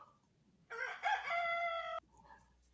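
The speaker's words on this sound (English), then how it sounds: "The rooster's crowing." A rooster crow sound effect rings out as one long, loud cock-a-doodle-doo lasting over a second, standing alone between quiet stretches with faint murmuring after it.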